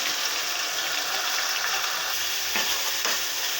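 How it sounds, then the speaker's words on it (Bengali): Spices with garlic paste, ginger, cumin, chili powder, salt and turmeric sizzle loudly in a pan, and a spoon keeps scraping and stirring them in a constant, close-up frying hiss. "মশলাটাকে একটু কষিয়ে নিচ্ছি"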